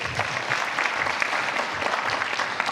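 A crowd at a middle school honors band concert claps loudly and continuously after a student's name is announced, forming a dense, even wash of applause.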